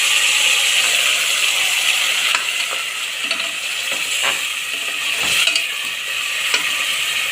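Ground masala paste for a sprouted-bean gravy sautéing in oil, a loud continuous sizzle and hiss with occasional scrapes and taps of a spoon against the pan, no talking.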